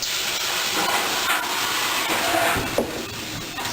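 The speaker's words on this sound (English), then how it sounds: "I'm going to steam it first and then put the loaf of bread in." Steam hisses into a hot oven just before a loaf of artisan bread goes in, a loud continuous broadband spray with slight surges, close by and without talk.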